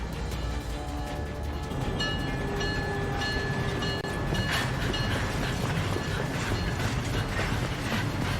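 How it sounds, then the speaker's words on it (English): A departing train in the game Syberia: The World Before, a steady dense rumble of wheels and carriage machinery with metallic ratcheting and clanks, loud and continuous, no voices. "Not the first time she's jumping on a leaving train"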